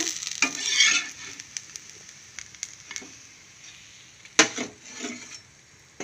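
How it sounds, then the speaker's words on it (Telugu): A curry leaf spice dosa sizzles and fries on a hot pan, a soft steady crackle punctuated by scraping strokes of a spatula and one sharper clack, close and fairly quiet without talk. "ఇంకొక దోశ వేసుకున్నాను అనమాట వేసుకొని కాల్చుకున్నాం అనమాట"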